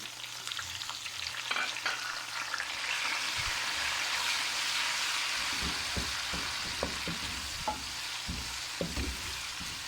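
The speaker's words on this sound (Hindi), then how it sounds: "अब इसके अंदर मैं टमाटर डाल दूँगी।" Tomatoes dropped into a hot frying pan for egg korma, giving a steady loud sizzle with scattered stirring clicks and pops throughout, no voices.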